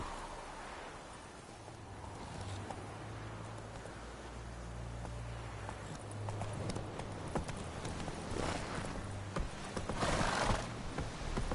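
Horse hooves clip-clop at a steady gallop in the Witcher 3 video game on PS4, a continuous rhythmic drumming over a low rumble of game ambience with no talk.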